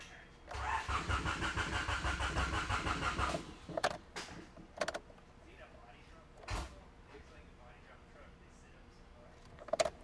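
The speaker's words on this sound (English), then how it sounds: "So I reconnected everything I disconnected, and let's see if it fires up." A Honda Civic EF with a swapped B17 engine cranks with a rapid, steady starter whir for about three seconds, then falls quiet, followed by a few clunks and faint speech nearby.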